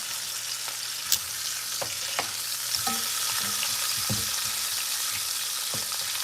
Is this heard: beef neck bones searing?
yes